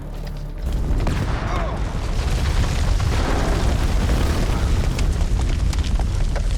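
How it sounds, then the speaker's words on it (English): A grenade explodes in the horror video game House of Ashes. A heavy boom arrives almost at once and turns into a loud, sustained roaring rumble with crackling debris that keeps going to the end. "Grenade!"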